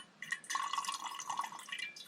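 Filtered water drips and trickles into a container at a forest campsite, a steady, close series of small wet drops and splashes with a faint glassy ring, heard alone without talk.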